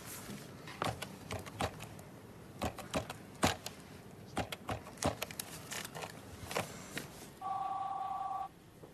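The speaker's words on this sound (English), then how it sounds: "It's ringing." A phone ringing on an outgoing call to a mobile, with several sharp, clicky taps and knocks scattered through it before a short, steady electronic ring tone sounds near the end.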